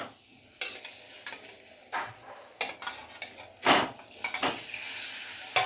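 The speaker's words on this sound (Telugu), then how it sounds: "ఇప్పుడు ఇవన్నీ ఏపుకోవాలి కొంచెం పెనంలో" Peeled boiled eggs, slit and coated in salt and chili, fry in a little oil in a pan, with repeated scraping and clinking of a utensil against the metal over a soft background sizzle, loud and close, no talking.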